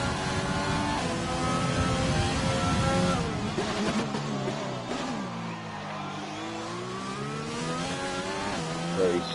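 A race car starting a lap on track, its engine droning steadily and loud with rising and falling revs as it shifts through gears, clearly close and continuous throughout.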